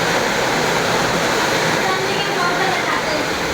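Heavy rain water pours in through a broken door and over a wall ledge into a house at night, a steady, dense broadband rush without pause, close and loud throughout.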